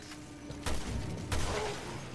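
Two sharp enemy gunshots in Resident Evil Revelations, about half a second apart, each a loud crack with a booming tail over low game ambience.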